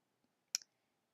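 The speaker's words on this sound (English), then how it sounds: "So I click" A computer mouse button gives a single sharp, close click, brief and faint, in an otherwise quiet moment.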